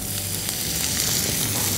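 Onion dropped into hot oil for pepper salt French fries produces a steady, loud, dense sizzle that holds evenly throughout the short moment.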